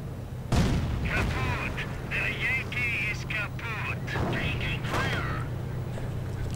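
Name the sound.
explosions and gunfire from tanks, Company of Heroes video game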